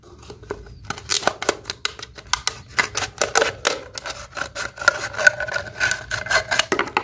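Scissors snipping through a plastic bottle, a quick irregular series of sharp crisp cuts and scraping rasps close to the mic, with no talk.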